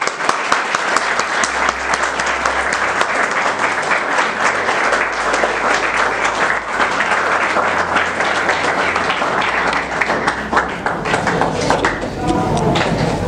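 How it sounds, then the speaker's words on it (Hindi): An award show audience applauds to welcome a speaker, with dense, sustained clapping from a large crowd throughout and a low hum underneath. "आपकी पुरजोर इस्तकबाल और आपकी पुरजोर तालियों में"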